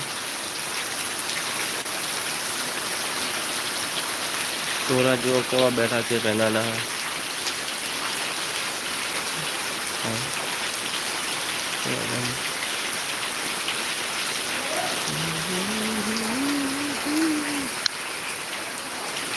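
Steady heavy rain roars throughout while a person speaks and calls out briefly over it, with a short sung or hooted phrase near the end.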